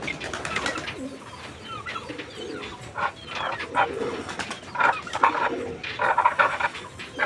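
Pigeons feeding on scattered tree seeds outdoors, soft repeated coos and low throaty calls rising and falling in irregular bursts, close by, with some rustling between the calls.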